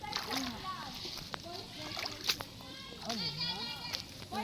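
People bathe in a muddy river at a housing area, their splashes and sloshing water coming in bursts under steady chatter, with children's voices among the talk.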